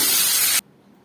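Spice paste dropped into hot oil in a pan, cooked with bay leaf and cumin for a pointed gourd dish, gives a loud, dense hiss that cuts off sharply after about half a second, leaving near silence.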